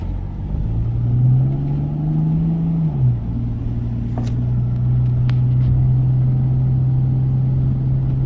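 A car's engine hums steadily and rises briefly in pitch as it moves along the steep, winding one-block street with nine turns on a San Francisco hill, a continuous mid-level road rumble with no talk.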